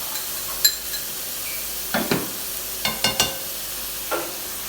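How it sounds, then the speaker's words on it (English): Sliced red onion, red chilli and garlic with ginger frying in a pan, a soft steady sizzle punctuated by several sharp clinks and scrapes of a utensil stirring against the pan. "give it a good fry off, and let all them flavours come together"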